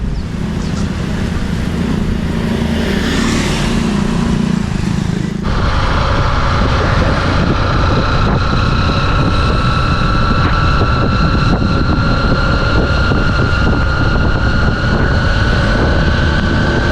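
A motorbike on a ride to a local market between Hue and Da Nang in Vietnam during heavy rain, heard as a steady, close engine drone mixed with constant wind rush for the whole stretch, with no talking.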